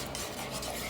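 Oregano seasoning is stirred around a pan for a vegan Chicago-style Italian beef, giving a brief, steady scraping swish close by with no voices.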